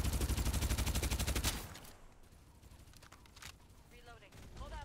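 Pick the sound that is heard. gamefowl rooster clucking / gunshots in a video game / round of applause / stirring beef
gunshots in a video game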